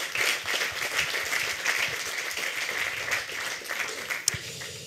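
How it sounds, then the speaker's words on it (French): An audience applauds steadily throughout, a dense wash of clapping with a single sharper clap near the end. "je crois qu'on peut les applaudir"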